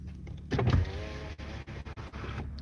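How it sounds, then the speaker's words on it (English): A parked car idling while its battery charges, a steady low engine hum in the background with a brief louder mechanical whir near the start, no voices present. "Sorry if this is in the background, sound of my car"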